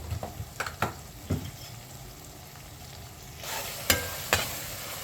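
Green chillies frying in oil as a spoon stirs them, with a low steady sizzle broken by several distinct scraping taps, the frying growing a little louder toward the end.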